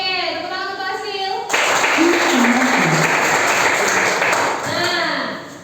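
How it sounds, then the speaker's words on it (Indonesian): Classroom group in Lampung applauding a student named Asril. A burst of clapping breaks in after someone speaks and runs for several seconds, with a voice over it before it fades as speech resumes. "tepuk tangan untuk Asril"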